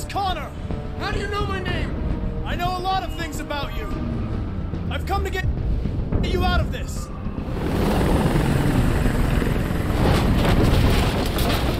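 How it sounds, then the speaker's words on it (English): A helicopter in the video game Detroit: Become Human churns as a loud, steady rotor roar that swells in the second half, under overlapping speech and shouting in the first part. "Chopper just messed it all up."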